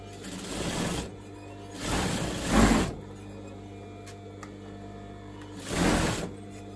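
A sewing machine stitches the hem of a velvet coat sleeve on a full-length velvet coat, running in three separate bursts of close, moderately loud whirring with quiet pauses between them.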